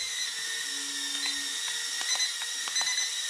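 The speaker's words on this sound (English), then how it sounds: "the motors are quite loud" Hommini hand-gesture toy quadcopter flying indoors, its small motors giving a steady, fairly loud high-pitched whir with a few light clicks over it, no talking.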